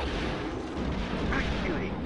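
Gunfire from Star Wars: Rogue Squadron, flying the Millennium Falcon on the Barkhesh rendezvous level. A loud, continuous barrage of booming shots and rumbling blasts runs without a break.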